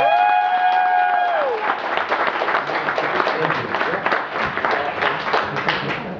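Convention audience applauding hotel staff at Glitch Con 2011's closing ceremonies: steady, dense clapping from a large crowd that swells in after a fading tone and carries on for several seconds, with a few scattered cheers mixed in.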